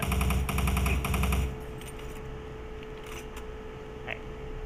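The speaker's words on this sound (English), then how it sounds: "Machine gun." Automatic machine gun fire in Doom 3, a loud rapid burst of rattling shots for about a second and a half, followed by quieter game ambience and a few faint clicks.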